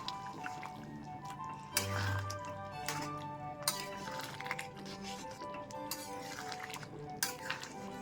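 Chana masala being stirred in a pan with roasted cumin and coriander powder, wet squishing of a spoon through thick gravy with occasional clinks against metal, over soft background music.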